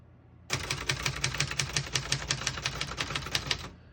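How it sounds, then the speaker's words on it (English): Steady rapid typing on a 1972 Brother Prestige 688 portable manual typewriter, about four sharp close key strikes per second in an even run lasting a few seconds, with no talking. "We're going to keep it on single and finish typing."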